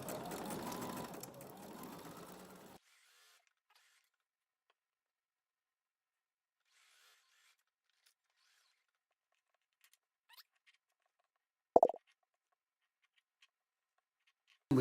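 A sewing machine stitching quilt pieces runs in a short burst at the start, then falls almost silent apart from a few faint taps and one sharp knock, heard close.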